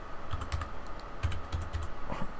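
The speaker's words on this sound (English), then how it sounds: "You have to type in this field, as you can see." Close, clear keystrokes clatter on a computer keyboard in short bursts of typing separated by brief pauses, with no voice over them.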